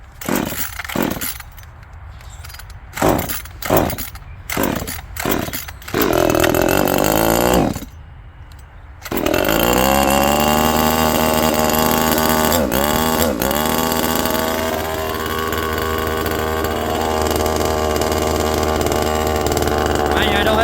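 A NeoTec NCS2500 top-handle chainsaw takes several sharp recoil pulls that sputter, then catches and runs at a loud, steady, buzzing idle up close, its pitch wavering briefly as the throttle is blipped.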